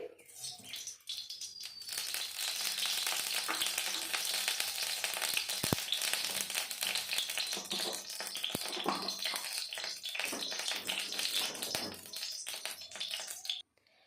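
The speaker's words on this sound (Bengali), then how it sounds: "এখন আমি দিয়ে দেবো পরিমাণ মতো সর্ষের তেল" Mustard oil goes into a hot kadai and a dense, hissing sizzle starts after a second, staying steady and close for most of the stretch before stopping abruptly near the end, with no talking.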